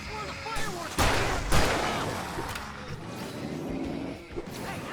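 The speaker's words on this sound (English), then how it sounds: "I can set off more of the fireworks from" Fireworks in the Alan Wake Remastered game burst in two sharp, loud booms followed by a lingering crackling rumble, set against a dark outdoor game soundscape with faint voices.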